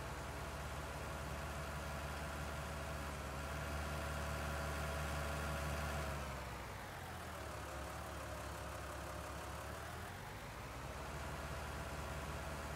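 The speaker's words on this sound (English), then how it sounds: "When I left this tractor running," Tractor engine idling in the Farming Simulator 19 video game, a steady low mechanical drone that dips briefly and then returns to a constant hum, with no voices.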